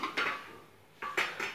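Pots and cutlery clatter in a home kitchen as a pressure cooker is handled and opened, with two separate bursts of clanking metal and a quieter pause between them, close by and with no talking.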